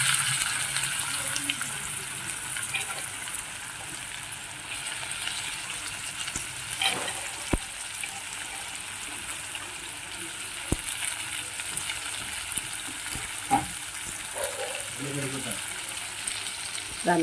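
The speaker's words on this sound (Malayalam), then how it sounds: "അതിലേക്ക് ഞാൻ ഉള്ളി ഇടുക." Chopped onion fries in a pan with ginger, green chili and garlic paste, a continuous low sizzle with occasional clinks and stirring knocks, heard close and fairly quiet throughout.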